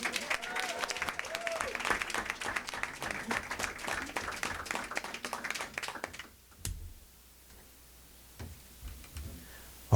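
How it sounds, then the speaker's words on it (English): An audience claps at a college athletics signing ceremony, a steady patter of applause from a modest crowd that dies away after about six seconds and leaves near silence with a few small knocks. "please give these two young men another round of applause"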